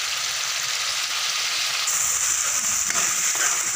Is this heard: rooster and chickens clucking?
no